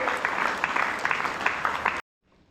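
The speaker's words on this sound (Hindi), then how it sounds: "आप सभी जोरदार तालियों के साथ हमारे मुख्य सचिव महोदय का स्वागत करें।" Audience applause welcoming the chief secretary at a school Independence Day assembly, dense and steady for about two seconds before cutting off abruptly into near silence.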